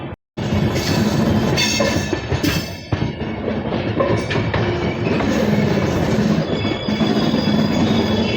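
A train pulls into Chennai Central station after a long run from Hyderabad via Guntur, its steady loud rumble of wheels and cars filling the whole stretch with faint squeals and clatter, no talk.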